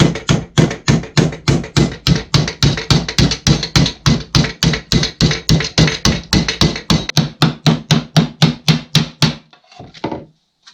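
Sheet metal for a hydraulic handbrake install on a BMW E30 is struck by a hammer in a fast, steady run of about thirty sharp, loud blows over roughly nine seconds, then stops, followed by a brief softer clatter.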